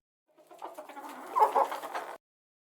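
A hen clucks close up in a short, fairly loud burst of a few rapid clucks with no other sound around it.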